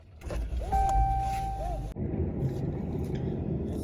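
A car is driving, with a steady low road rumble and engine hum that continue after a brief whine and a sharp cut partway through.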